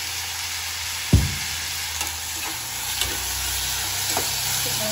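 Peas and onion frying in a pan with salt, a steady sizzling hiss throughout, broken by a sharp clack of a spoon against the pan and a few lighter stirring knocks.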